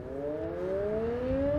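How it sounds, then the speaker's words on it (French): An air raid siren wails in Zhytomyr, Ukraine, a steady droning tone slowly rising in pitch, loud and continuous over low background rumble. "ses sirènes qui retentissent toutes les 2 ou 3 heures, à chaque fois qu'un avion ou qu'un missile passe la frontière"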